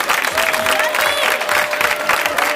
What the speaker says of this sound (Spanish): pasamos un fuerte aplauso